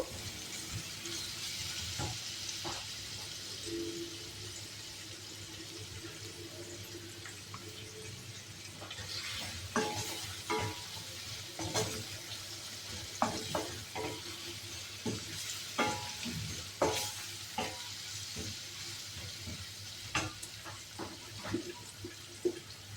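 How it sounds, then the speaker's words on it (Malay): Ginger and garlic sautéing in a pan, a faint continuous sizzle at first, then scraping and stirring strikes that grow more frequent and sharper in the second half, close by with no talk. "Kita tumis dulu sampai dia naik aroma halia bawang putih tu."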